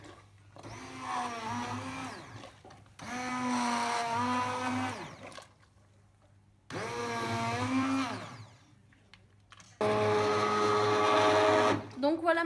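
A kitchen blender purees onion soup in four loud bursts of whirring motor, each a few seconds long, the pitch rising and dipping as the blades churn, separated by short pauses.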